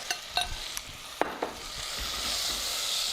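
A pho spice mix hits a hot pot with a few clinks and scrapes, then builds into a strong, steady sizzle that swells and holds to the end, close and loud with no talking.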